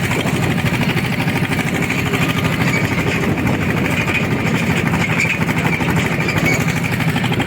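Homemade tractor engine running during soybean field rolling, a loud, steady, rough drone with constant chugging pulses, close and continuous throughout with no talk.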